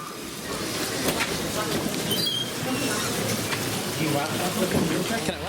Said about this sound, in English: It's definitely rainy